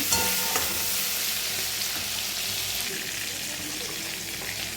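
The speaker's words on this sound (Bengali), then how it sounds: "আলু সেদ্ধ করে নিয়েছিলাম, আলুটাও ভেজে নিচ্ছি।" Boiled potatoes fry in hot oil in a home kitchen, making a steady, bright, hissing sizzle close by with a few clinks of stirring early on.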